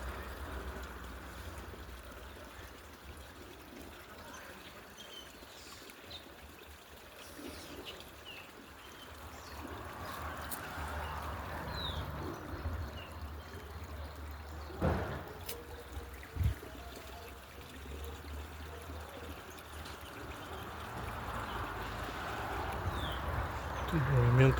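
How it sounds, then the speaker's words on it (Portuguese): Water flows steadily at a rural farm property, a soft continuous wash with a few faint knocks and clicks, growing slightly louder toward the end. "Movimento da água."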